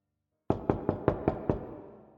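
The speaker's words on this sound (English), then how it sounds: "I was awoken in the late afternoon by the sound of knocking against the tram window." Six sharp knocks rap against a tram window in a quick, even series, close and distinct, their ring fading afterward before a louder thump at the end.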